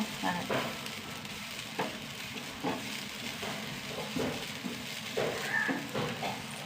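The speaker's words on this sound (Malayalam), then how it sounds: "കറിവേപ്പില ഒരു നല്ല കറിവേപ്പില നന്നായി വറുക്കുക" Curry leaves and grated coconut fry in a pan with a close, even sizzle, and spoon stirring adds scattered scrapes and clinks every second or so. No one speaks.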